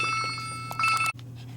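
A telephone bell rings with a bright, trilling, metallic tone during an interview, sounding briefly over a low room hum and then cutting off abruptly.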